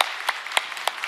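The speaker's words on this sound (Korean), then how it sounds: "힘차게 격려 박수 한번 주시기 바랍니다" A church congregation claps briefly in encouragement after a service presentation, a sparse scattering of hand claps with a few louder individual strikes rather than a full sustained ovation.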